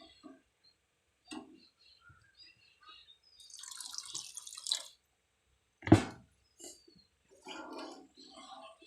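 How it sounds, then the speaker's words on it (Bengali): Water splashes into a pan of potol (pointed gourd) curry in a home kitchen, a few scattered drips and gurgles followed by a sharp splash and a softer trailing pour, close and moderately loud. "আমরা সামান্য জল দিয়ে দিব, জলটা দিয়ে দিয়েছি"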